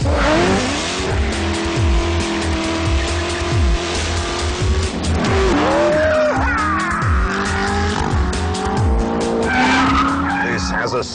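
A supercharged 6.2-litre ZR1 driven hard and fast, engine roaring loudly with rising and falling revs as the tires squeal and skid repeatedly, continuous and close throughout.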